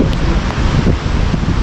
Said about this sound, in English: it's raining, windy, but normally there are good waves